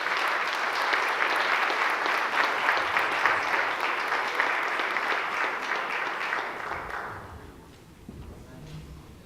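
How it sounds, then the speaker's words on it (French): Sustained applause from the audience at a municipal council meeting in Saguenay, loud and steady for about seven seconds before fading into quieter room sounds and a few scattered claps. "mais on l'applaudit tout de même, Mme Stéphanie Thériault."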